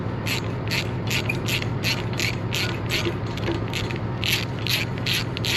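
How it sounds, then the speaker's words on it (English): A hand ratchet with an extension cleaning threads on a John Deere 5090E tractor, giving a close, crisp clicking pawl ratchet in short repeated bursts of strokes, heard alone with no talking. "Grab a ratchet and an extension here so we can clean up the threads"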